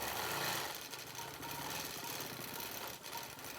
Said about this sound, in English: I'm just going to stitch in the ditch up here like that and come back out here.